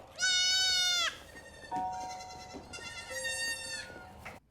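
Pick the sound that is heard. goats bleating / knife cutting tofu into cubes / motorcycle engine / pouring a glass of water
goats bleating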